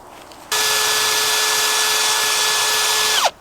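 A power drill whirs steadily at high speed for about three seconds, then winds down as the trigger is released.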